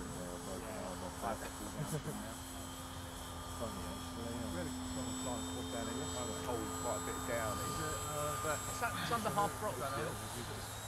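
A Ben Buckle Junior 60 model airplane converted to electric power runs its motor steadily at moderate distance, a constant whine with propeller hum throughout, while people talk over it.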